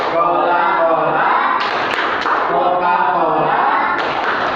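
Rhythmic group clapping of the Tepuk Coca-Cola chant fills a dakwah gathering, close and loud, thumping claps under steady crowd chanting.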